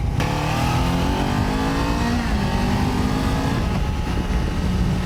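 A Kawasaki Z400 motorcycle, a 400cc machine, accelerating hard: a loud, close engine note rising steadily in pitch through the gears, continuous and dominant throughout with no speech.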